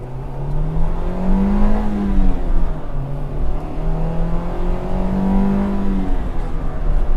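Race car engine revving up and down in smooth waves as gears are shifted gently, rising and falling pitch repeating through the clip, loud and close, no talking.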